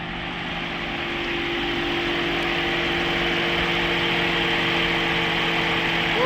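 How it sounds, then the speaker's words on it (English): A Lexus LC500 convertible's 5-litre naturally aspirated V8 runs at a steady, loud drone, rising slightly in level as it continues, with no voices over it. "you're no longer going to get a 5-litre naturally aspirated V8 engine"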